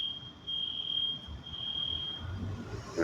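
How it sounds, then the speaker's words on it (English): A fire alarm sounds inside a library as a steady, piercing high-pitched tone that holds continuously throughout, moderately loud with faint room noise underneath. "they done set off the fucking fire alarm in the library"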